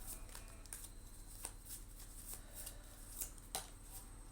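Tarot cards are shuffled and drawn with soft, papery riffling and light flicks and slaps, close by and quiet, a handful of sharper snaps standing out over a steady low hiss.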